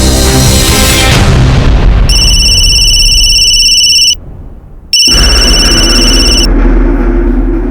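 A phone rings in two electronic bursts separated by a short gap, loud and near, over a heavy, rumbling dramatic background in a Hindi crime drama.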